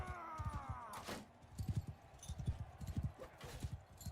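Horse hooves clip-clop in a steady, fairly close rhythm throughout a medieval battle in the game Empires of Europe 1100 Mod, with a brief whinny-like swell early on.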